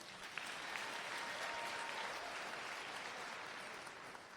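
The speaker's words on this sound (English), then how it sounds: "We'd like to ask you to please hold your applause" Audience applause fills a high school graduation ceremony, a dense, steady wash of many hands clapping at a distance, continuing without pause for several seconds with no talk.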